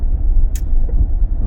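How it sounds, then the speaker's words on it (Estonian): An Ineos Grenadier cruising along a main road, a steady close low rumble of engine and tyres with a brief hiss-like burst partway through. "sõidan mööda suurt teed, mitte mööda otseteid"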